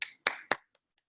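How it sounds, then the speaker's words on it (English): Claps picked up over an online club meeting call, three sharp, close claps in quick succession followed by two faint trailing taps, with silence between. "A huge round of applause, please."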